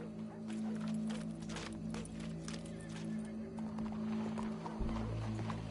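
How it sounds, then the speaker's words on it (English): Horse hooves clip-clop at a steady walking pace in Red Dead Redemption 2, set against a busy game background with low hum and faint crowd noise. "Go brush that horse, officer."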